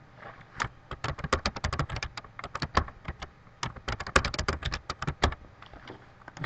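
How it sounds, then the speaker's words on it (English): Fingers type on a computer keyboard, loud close key taps in quick irregular bursts with short pauses between runs. "I'm just going to type it."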